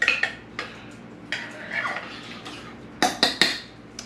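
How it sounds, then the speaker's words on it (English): Pot roast vegetables and seared meat juices being stirred in a crock pot, a spoon clanking and scraping against the pot in irregular knocks, with a cluster of louder clinks near the end. "I'm just gonna give everything I have in my crock pot a good stir here."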